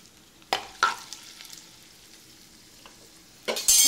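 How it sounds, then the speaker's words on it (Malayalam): Cashew nuts fry in hot oil with a soft continuous sizzle, punctuated by a few sharp stirring or spoon clinks and a louder sizzling surge at the end. "കാഷ്യൂ നട്ട്സ് കുറച്ച് കിസ്മിസ് എടുത്തു വെച്ചിട്ടുണ്ട് ഇത് എണ്ണയിലിട്ട് വറുത്ത് കോരി എടുക്കാം"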